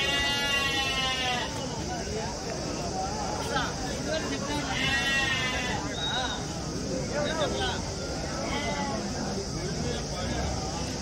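Big rams bleating at a crowded livestock market held for Bakrid, wavering calls rising over a constant babble of voices and crowd noise.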